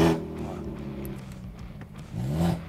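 A modified BMW F30 320i idles with a low, rumbling exhaust tone, dips, then rises again in a revving surge to its loudest, close and fairly loud.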